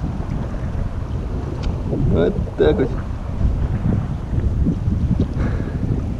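Wind buffeting the microphone with waves washing around a small boat, a constant rough rumble and splashing close by, with someone speaking briefly over it.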